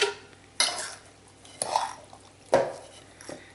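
A spoon scrapes and stirs through a pot of thick sauce made with spicy hot V8 juice, in three or four distinct close strokes with soft liquid sloshing between them.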